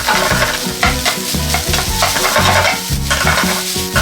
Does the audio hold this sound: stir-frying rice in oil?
yes